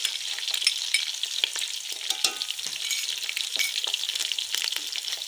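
Chicken frying in a pan with ginger garlic paste for Karachi-style biryani, a steady bright sizzle with scattered crackles and stirring scrapes throughout, close and continuous.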